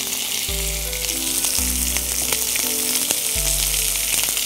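Constant loud sizzling of onions and garlic sautéing in a hot pan for chicken gravy, with faint clicks of stirring and a low steady hum running underneath.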